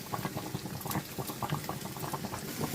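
Bottle gourd simmering in salted water in a home kitchen pot, a steady rolling bubble and pop of boiling liquid that stays close and even for the whole stretch, with no voices.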